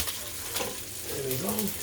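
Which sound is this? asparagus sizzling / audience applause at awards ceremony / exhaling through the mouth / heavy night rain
asparagus sizzling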